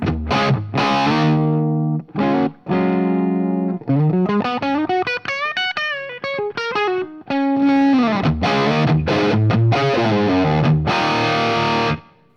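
An electric guitar plays through a Tone King Imperial preamp into a Marshall JMP amp, with driven, distorted chords and a quick run of single notes, loud and close with short gaps between phrases.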